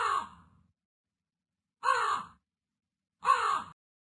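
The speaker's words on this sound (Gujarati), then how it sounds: "ક્રો એટલે કાગડો." A crow caws three times, the calls clear, close and evenly spaced, with silence between them.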